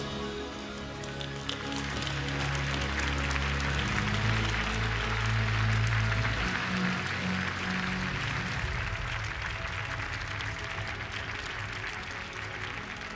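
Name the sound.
audience applause welcoming finalists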